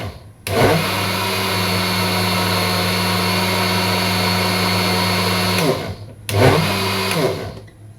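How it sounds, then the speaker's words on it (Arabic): A blender whirs loudly and steadily for about five seconds, spins down, then starts again in a second short burst, close up. "هنيجي بقى نضرب السوائل دي كلها في الخلاط كده"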